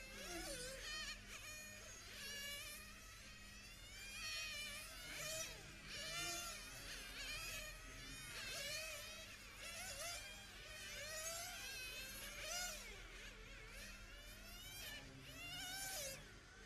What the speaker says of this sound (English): So you can start to hear cars going into the pit lane.